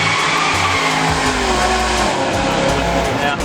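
Race car with a heavily boosted engine making low 500s horsepower at the wheel, coming around a corner on track: a loud, continuous engine roar with rising and falling harmonics and tire squeal throughout, no talking.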